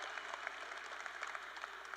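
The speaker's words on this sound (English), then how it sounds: "clap for yourselves first" A graduating class at McQueen High School applauds itself, a soft, distant wash of many hands clapping steadily in a large hall, faint and even throughout.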